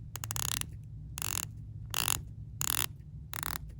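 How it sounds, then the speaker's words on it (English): The rotating 120-click bezel of a Unimatic Hodinkee Edition watch ratchets in close-up, with five short bursts of rapid clicks separated by brief pauses. "We have rotating bezel, 120 clicks."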